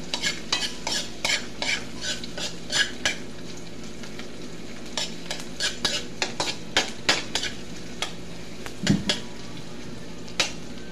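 Eggs cooking in a pan come with irregular bursts of a utensil scraping and clacking against the metal over a faint, steady sizzle, with one heavier knock near the end.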